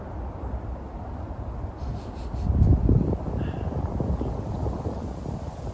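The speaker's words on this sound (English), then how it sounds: "Oh, it's windy" Low, rumbling wind buffets the microphone in gusts in a country park in Shanghai's southern suburbs at 4 degrees Celsius, swelling loudest midway before settling into a steady blustery roar.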